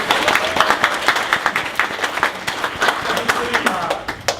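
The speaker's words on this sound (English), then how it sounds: "Can we give Kate a round of applause?" Audience applause for a student named Kate at a school district committee board meeting, steady claps from a modest crowd with some voices mixed in, filling the room for several seconds.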